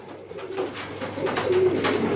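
Pigeon with straight, soft wing feathers and a short tail, cooing nearby in a few soft, throaty, rolling calls over quiet background.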